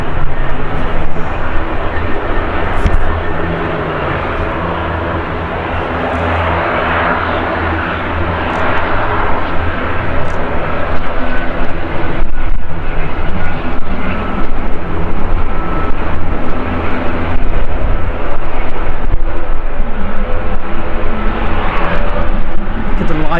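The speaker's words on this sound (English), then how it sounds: "Private jet coming in." A private jet comes in to land at Manchester Airport, its engines a loud, sustained roar with broadband rumble that swells and holds, heard outdoors from the south side with wind buffeting.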